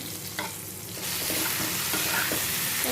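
Dried fish, a mix of chandana shutki and another kind, frying in a pan, with a steady close sizzle that grows louder after the first second, plus a few stirring scrapes.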